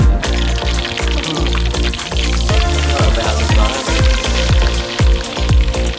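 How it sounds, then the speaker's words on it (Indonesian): Tilapia deep frying in hot oil beside a lakeside fishing spot, a dense, steady sizzle with popping crackles spread throughout, close and loud, with no talk. "Kita goreng kering aja ya, supaya makin nikmat makannya."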